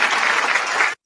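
A burst of applause from many hands, dense and steady for about a second before cutting off abruptly into silence.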